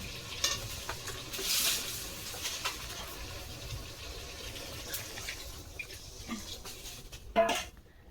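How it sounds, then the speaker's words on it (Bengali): Water is added to spices frying in oil, and a sharp steamy hiss and sizzle rise over steady frying. Stirring scrapes and small clatters come and go, and there is a final burst near the end. "পুরো তেল ছেড়ে দিয়েছে মশলা, তো এখন জলটা দিয়ে দেবো।"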